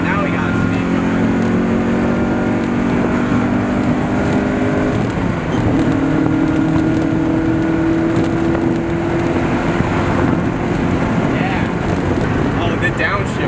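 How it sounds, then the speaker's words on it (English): A Mazda NA Miata with a lighter flywheel drives at steady speed with a droning engine, its pitch shifting midway as it downshifts, with people talking inside the cabin over the road noise. "Downshift. That was a nice downshift."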